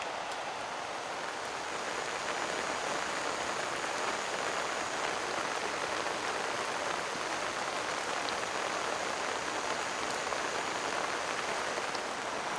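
Heavy rain pours down steadily outdoors at night during a fishing session, a dense and constant hiss of drops drumming on surfaces that stays loud and even throughout.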